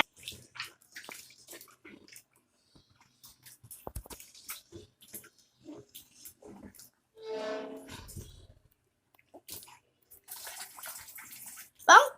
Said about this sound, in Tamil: புளியை வந்து நம்ம கரைச்சிதான் இப்படி ஊற்றணும்